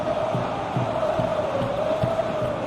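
A football stadium crowd at a Champions League match between Real Madrid and Inter Milan keeps up a loud, steady roar with rhythmic chanting swells throughout.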